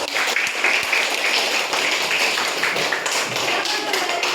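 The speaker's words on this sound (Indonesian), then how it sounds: "Beri aplaus buat kelompok melati" Applause for a student group in a classroom session, a dense, sustained burst of many hands clapping at once, loud and close for a few seconds.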